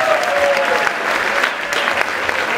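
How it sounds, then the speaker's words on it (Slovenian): An audience applauds an Olympic silver-medal javelin thrower at a sports awards gala, steady dense clapping filling the room for the whole moment at close range. "tako da en velik aplavz, Primož."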